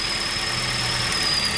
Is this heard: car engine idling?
yes